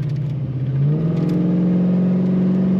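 A 1984 Chevrolet Monte Carlo engine rises in pitch as it revs, the low drone climbing and holding steady, loud and close with no voices.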